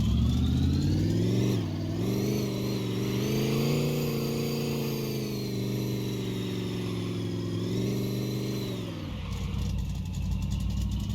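A car engine in the game My Garage revs hard and holds high RPM on a dyno, a loud steady roar that climbs, sustains, then drops abruptly toward idle near the end.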